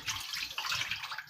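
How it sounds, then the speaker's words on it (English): Water is poured into a container in a kitchen, a short, close burble and splash with no talk. "We're just gonna pour that water in here,"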